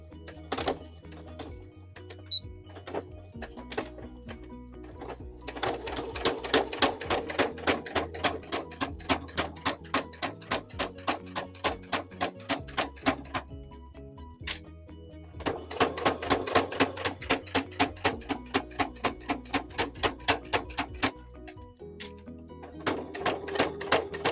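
A home sewing machine top-stitches over a bulky seam on a pet bandana, running in two long bursts of rapid, even needle clatter separated by pauses and slower single stitches.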